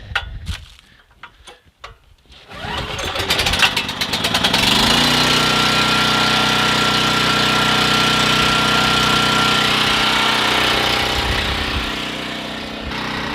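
A small gasoline generator engine is pull-started with a few ratchety tugs, then catches and settles into a steady, loud, close mechanical drone that runs evenly before easing slightly at the end.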